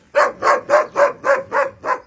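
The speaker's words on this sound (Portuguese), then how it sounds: "Pastor alemão, amarrado na corrente, sem comida, sem água" A German shepherd, chained outdoors, barks seven times in a steady, even rhythm, loud and close with no other sound.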